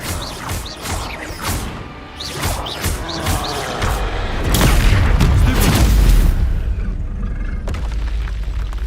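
A Bombarda spell cast in Hogwarts Legacy erupts in a booming explosion with crashing debris and rumble, preceded by a series of whooshing magical swishes and a roaring burst that fades into lingering noise.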